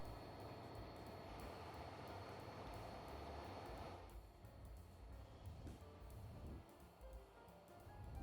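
Freight train running in the game Transport Fever 2, a steady broad rumble and rolling rail noise throughout, loud and continuous, easing slightly midway.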